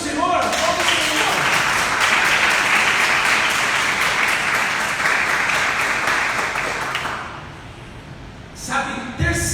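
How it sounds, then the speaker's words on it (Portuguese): A church congregation applauds loudly for about seven seconds during a sermon, the dense clapping then fading away as a voice briefly returns at the end. "para aplaudir o Senhor, aplaude o Senhor."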